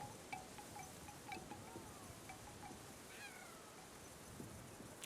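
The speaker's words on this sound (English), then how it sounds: "I forgot that this game has a cat noise." In the video game Kena: Bridge of Spirits, a cat meows several times, short and faint, against a steady backdrop of wind-like ambient noise.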